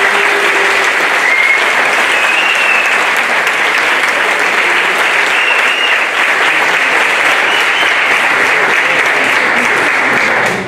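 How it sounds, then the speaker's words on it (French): A large crowd applauds steadily and loudly, sustained clapping filling the whole stretch without pause. "je vous demande de les applaudir"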